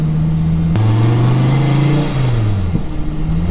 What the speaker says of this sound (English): With a blower, even at idle, you're hearing that pressure exit.